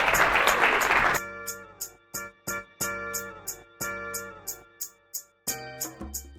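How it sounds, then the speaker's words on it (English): Audience applause at a live tax-strategy event, a dense burst of clapping for about a second that breaks off abruptly, followed by rhythmic music hits. "So give a huge round of applause to Mark Kohler."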